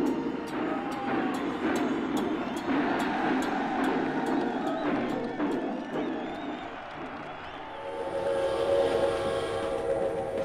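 A train pulls out of Beijing Railway Station in December 1953, heard as steady, loud rumbling and clattering with a regular ticking beat, under music and no talk, the tone shifting brighter toward the end.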